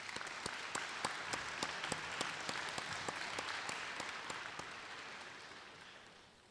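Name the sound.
audience applause for award recipients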